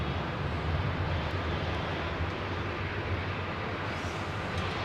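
Aircraft engines roar steadily in the distance during magneto checks across the apron at London Heathrow, a dense, unbroken rumble with no clear change over the stretch.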